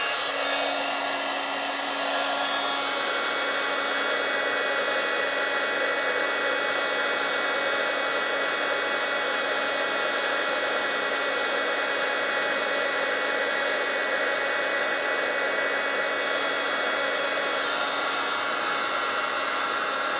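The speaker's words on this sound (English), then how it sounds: "Just gonna grab my heat tool now" Craft heat tool blowing hot air, a steady loud whooshing hiss with a constant fan whine that runs unbroken and close for the whole stretch.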